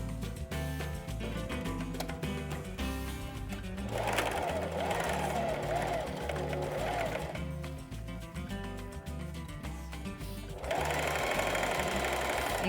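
A sewing machine runs steadily while stitching a skirt waistband. Its close mechanical whir and rapid needle chatter continue throughout and grow louder in bursts, with background music and faint talk underneath.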